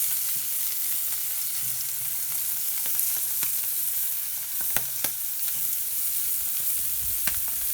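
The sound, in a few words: Cajun style smelts frying in a pan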